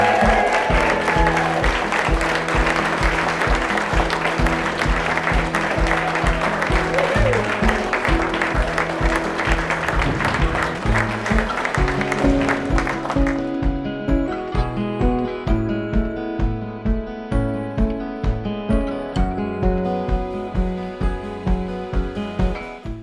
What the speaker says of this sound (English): You are all going to clap and cheer.